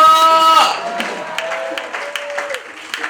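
A crowd at a prayer gathering claps and cheers in a loud, dense burst of applause that follows a sung or shouted voice, then thins into scattered clapping and crowd noise.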